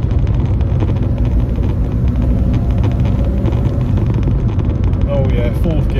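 Ford Fiesta Mk6 engine pulls in third gear after a clutch change, a loud low rumble mixed with heavy wind and road noise, steady throughout, with someone talking over it.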